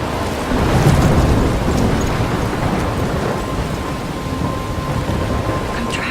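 Heavy rain and rolling thunder from a thunderstorm in the video game Life Is Strange, a steady loud downpour with a deep rumble swelling early and then settling under it, with no voices.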